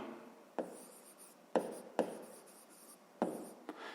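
A math expression is handwritten by pen on paper in quick scratchy strokes with brief taps between them, close and quiet, with no voices.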